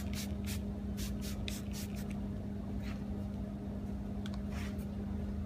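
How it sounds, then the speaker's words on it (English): A pressure washer's steady motor hum under intermittent hissing bursts of spraying water, fairly quiet and without speech. "you can use a pressure washer and clean it away"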